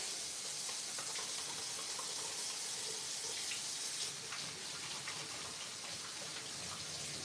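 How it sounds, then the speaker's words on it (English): Tap water runs steadily into a sink as hands are washed after handling garlic, a soft continuous hiss and splash with no talking. "I'm going to wash my hands because they are now going to smell like garlic"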